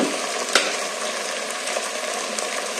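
Chicken biryani ingredients deep frying in a pan with salt, giving a continuous, even sizzle and crackle close up with one brief clatter.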